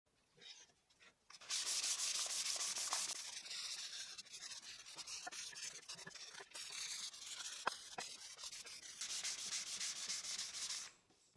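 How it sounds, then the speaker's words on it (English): Wood being sanded by hand with fine sandpaper: close, steady back-and-forth rubbing strokes with a dry, hissy texture, starting after a brief quiet moment and stopping just before the end. "manual sanding will be done using a finer sandpaper than the previous ones"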